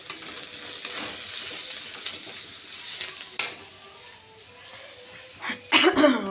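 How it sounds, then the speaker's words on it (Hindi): Masala with cumin powder, black pepper, mixed spice and ginger-garlic paste frying and being stirred in a pan for samosa filling, a steady close sizzle with scraping stir strokes and a few sharper clatters near the end. "इधर मसाला भुना गया है"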